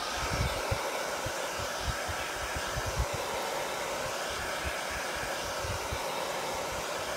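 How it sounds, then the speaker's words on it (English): A hair dryer blows steadily throughout, a continuous broadband whoosh of air with a low motor rumble, used to dry chalk paste on a pillar board craft project. "Just using my hair dryer to help dry this along"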